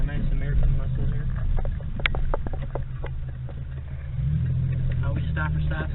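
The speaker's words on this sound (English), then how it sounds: "So here we are driving the Grand Prix." A 1996 Pontiac Grand Prix drives on a road, its engine a steady mid-pitched hum with a shift in tone near the end, under intermittent talk from the occupants.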